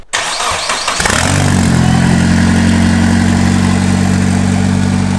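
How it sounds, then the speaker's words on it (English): A manual car engine cranks briefly, catches and settles into a loud, steady idle with a slight wobble, heard close and with no talk. "Engine's got a bit of a wobble."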